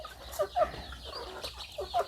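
Backyard chickens raised by a village family cluck softly in a few short, quiet calls, fairly distant and with no talking.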